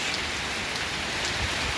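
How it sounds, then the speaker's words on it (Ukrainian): Steady rain falls on a village garden plot during a garlic harvest, an even broadband hiss of drops on surfaces heard up close and continuous, with no talking. "Почався дощ."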